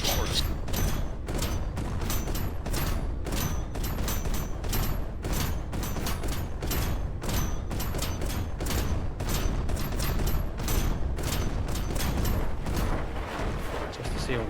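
Sustained rapid gunfire in Carrier Command 2 as a player shoots at a Walrus amphibious vehicle from halfway up a ramp: dense, continuous bursts of shots and impacts filling the whole stretch at steady loudness.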